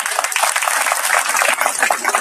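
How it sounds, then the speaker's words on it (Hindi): Large crowd at a Kolkata public gathering clapping loudly and continuously for the children in the front row, a thick, steady wash of applause close by with no pause. "तो जरा ताली बजाइए इनके लिए"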